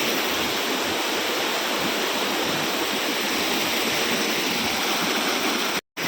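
Loud, constant roar of a waterfall in the Gir forest, Gujarat, a dense rushing wash of water that continues without a break until an abrupt cut at the end.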